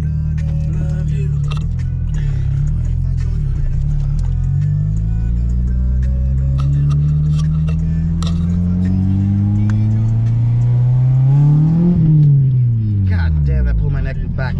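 A manual car revs hard and launches with a two-step, its engine note climbing through gears, dipping and rising again, loud and close from inside the cabin.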